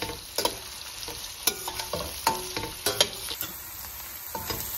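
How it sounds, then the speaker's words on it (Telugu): Chillies and onions fry in butter with whole spices for a chicken curry, a low sizzle under repeated close spatula scrapes and taps against the pan at an uneven rhythm. "ఆనియన్స్ ఫ్రై అయ్యేదాకా ఫ్రై చేసుకోవాలి"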